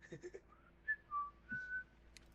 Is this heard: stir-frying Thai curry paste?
no